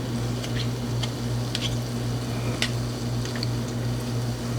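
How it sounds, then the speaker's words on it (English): Spoonfuls of malasada dough frying in hot oil over medium-low heat, a steady close bubbling sizzle with faint scattered pops and no talking. "I'm dropping about a tablespoon or more into the oil."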